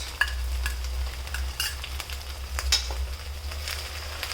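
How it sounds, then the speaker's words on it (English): Onions fry in a pan for a Maharaja-style chicken curry, giving a steady close sizzle broken by scraping clicks as a spoon stirs them at irregular moments, with no talk. "And simmer for 2 minutes or till the onion color turns into brown"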